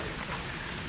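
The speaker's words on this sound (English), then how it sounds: "now it started raining" Rain beginning to fall outside a backyard chicken run, a steady soft hiss of drops spread evenly through the moment, faint and continuous with no voices.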